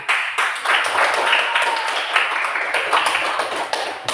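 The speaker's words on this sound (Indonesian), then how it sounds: "Tepuk tangan." A class of fifth-grade primary school children claps together in a classroom, a dense, steady patter of many hands lasting several seconds with a few sharper peaks and no voices over it.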